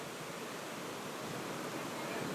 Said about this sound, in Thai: น้ำตกมาจากเทิงภูเขาพะนะ